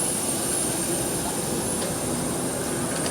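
A fixed-wing aircraft arriving for an official state visit, its steady, loud jet-engine roar running without a break from start to finish, with no talk over it.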